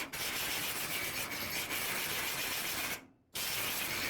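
A grinder dresses down welds on auto restoration metal parts, making a steady, close, harsh rasping whine that runs continuously and cuts out briefly near the end.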